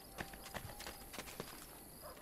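Horse hooves clip-clop at a walk in Assassin's Creed Brotherhood, several soft, evenly spaced thuds close by with no one talking over them.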